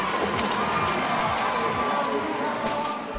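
A packed stadium crowd roars and cheers at a high school robotics competition, a dense, continuous wash of voices heard from within the stands.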